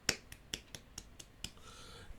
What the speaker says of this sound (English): clap my hands quietly